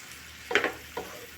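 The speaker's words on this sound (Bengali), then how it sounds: "একটু জল দেব যাতে মশলাটা পটলের মধ্যে ঢুকে যায়" Spiced pointed gourd frying in a pan, with water added so that it gives two short, quiet bursts of sizzling hiss against a low kitchen background.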